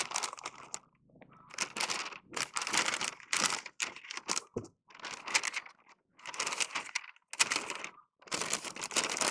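Stiff butcher paper crinkling and crunching in bursts as it is folded and tucked tightly around beef chuck ribs, close up, with brief pauses between handling.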